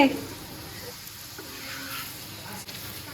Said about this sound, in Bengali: রুটি আর তেল দিয়ে ভাজছে এটা হচ্ছে পরোটা